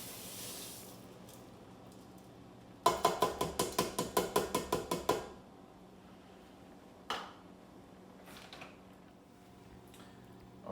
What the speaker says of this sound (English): So now we're just going to add in 1 cup of red lentils from the bag.